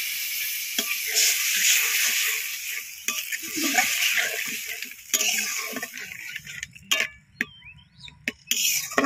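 A small splash of water hits fried meat in a hot pan, setting off a bright hissing sizzle that fades into bubbling, with sharp clinks and scrapes of a spoon against the pan at close range.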